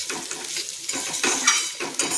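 Spoon scraping and clattering in a pan as diced potatoes, sesame seeds and spices are stirred together for a dry sweet potato and potato dish, with light sizzling under the repeated scrapes.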